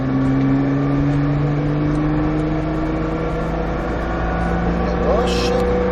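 A Nissan GTR accelerates as it pulls onto a race track, its engine tone climbing in a steady loud drone from inside the cabin while a person speaks briefly over it.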